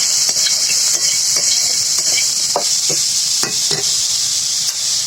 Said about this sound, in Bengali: দিয়ে দিলাম পরিমাণ মতন লবণ পরিমাণ মতন হলুদের গুঁড়া নাড়িয়ে চাড়িয়ে মিশিয়ে নিই